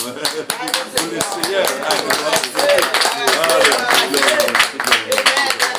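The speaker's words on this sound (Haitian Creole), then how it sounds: "nous battons pour applaudissement" Congregation at a church service clapping together, a dense run of hand claps mixed with voices and singing throughout.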